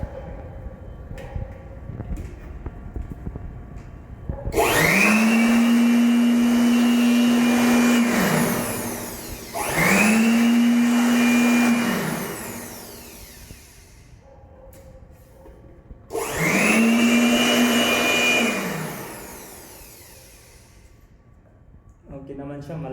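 An electric air blower with a vacuum function runs in three loud, close bursts of several seconds each. Each burst carries a steady whining tone over a rushing roar, and short quieter pauses separate the bursts.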